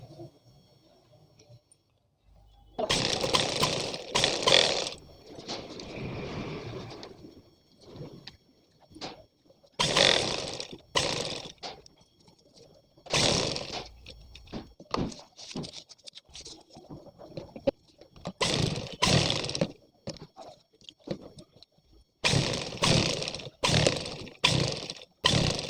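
A sewing machine stitches a neck design in short, loud bursts of rapid whirring, separated by quiet pauses, close to the listener.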